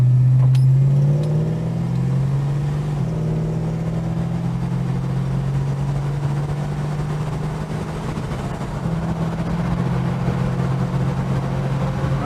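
A Holden HK car accelerates out of town to cruising speed, its mid-pitched engine droning steadily with a few gear-related shifts in tone, then settling into an even hum from inside the cabin.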